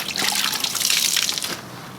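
A car wash mitt plunged into a 5-gallon bucket of clean water makes a brief burst of sloshing and splashing that fades quickly into quiet dripping, close and fairly loud.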